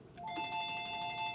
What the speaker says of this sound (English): Get the phone.